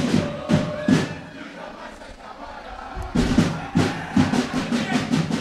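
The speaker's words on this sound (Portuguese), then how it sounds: "Canta a torcida do Catanduva" Catanduva FC supporters in a stadium during a Paulistão A3 match against Desportivo Brasil, a crowd roaring and chanting in rhythmic surges, with loud bursts recurring through the clip and a dip in the middle.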